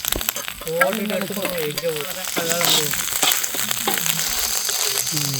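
Cumin, grated coconut and curry leaves sizzling in hot ghee in a pan, a crackling fry with stirring scrapes, while a voice talks over it.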